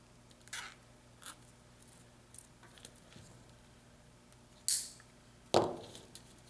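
Snipping off the excess end of a zip tie on car stereo wiring: a few faint clicks and rustles, then two sharp, close cuts near the end, with no talking.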